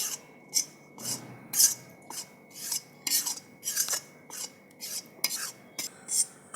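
A spoon rhythmically scrapes and stirs gram flour roasting in ghee in a pan, about a dozen rasping strokes in a steady rhythm, close and clear with no talk.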